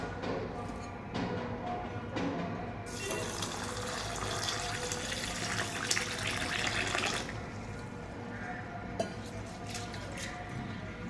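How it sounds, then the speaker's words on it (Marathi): Basmati rice is rinsed clean under a running kitchen tap, a steady close gush of water with heavier splashing through the middle, with faint background sounds and no clear talking. "इथे मी बासमती तांदूळ घेतलेला आहे हा आता आपण याला स्वच्छ धुवून घेऊया"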